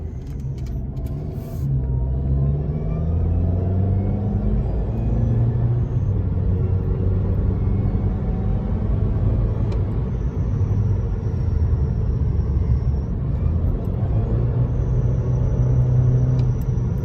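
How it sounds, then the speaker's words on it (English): Car with a freshly installed GFB DV+ diverter valve and a squeaky belt on its first drive, heard from inside at night: a steady low engine rumble and road noise throughout, rising slightly as it accelerates, with no talking. "we're going to take it out for a quick drive"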